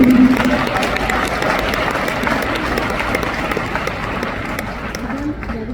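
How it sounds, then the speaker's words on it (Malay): Audience applause at an Amway Kuala Lumpur and Selangor recognition event, a loud sustained wash of clapping from a large crowd filling the whole stretch without pause. "Tepukan untuk mereka semua."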